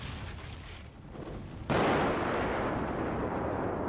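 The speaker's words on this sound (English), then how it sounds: "I want to show a building being blasted." Explosion demolishing a building, heard from almost a mile away: a quiet rumbling lead-in, then a sudden loud broadband blast at about 1.7 seconds that sustains as a dense roar to the end.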